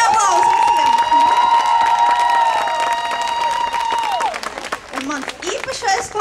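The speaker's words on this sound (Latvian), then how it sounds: "Skaļi aplausi visiem!" Loud applause and cheering from an outdoor festival audience in a Riga park, dense clapping sustained for several seconds while a voice and a held musical tone carry over it, then tapering into scattered claps.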